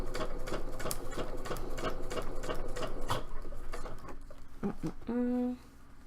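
A sewing machine stitches a cosplay belt in a steady, fast mechanical chatter with repeated clicks, close and fairly loud, then slows and stops near the end with a brief whirring hum.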